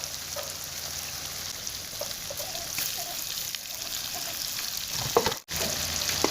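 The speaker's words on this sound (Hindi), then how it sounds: "अब हम इसमें फ़िश डालेंगे और उसे पकाएंगे।" Fish pieces frying in masala curry in a pan, a loud, steady sizzle that bubbles continuously, with a brief sharp crackle and dip near the end.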